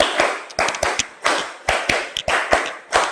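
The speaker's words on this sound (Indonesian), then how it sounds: "Tepuk 1, tepuk 2, tepuk 3, tepuk 4, tepuk 5 2 kali." A group claps a counted rhythmic pattern in a room, sharp crisp claps falling in quick clusters of one to several with short pauses between, loud and close, with no talking.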